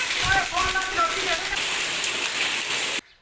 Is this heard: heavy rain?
yes